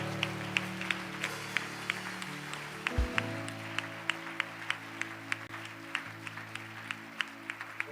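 Congregation at a church service applauding and cheering for Jesus, a steady crowd clapping with sharp individual claps, a brief low thump midway, and a sustained organ-like tone underneath.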